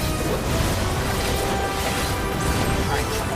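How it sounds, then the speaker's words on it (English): Dense, continuous rumbling blasts and crashes from a Final Fantasy XIV raid battle, loud and layered, with a voice talking over the effects. "I want to avoid these other explosions before they go off."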